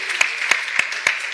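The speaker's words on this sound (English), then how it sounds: "Give them a round of applause." Audience applause at an awards ceremony for a photography competition, a steady wash of clapping with a few sharper claps standing out, with no talk over it.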